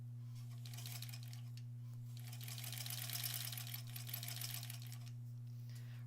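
A sewing machine stitches tiny quilt block pieces for an in-the-hoop sampler block, its fast steady whirring running in bursts with short pauses, close and fairly quiet over a constant low hum.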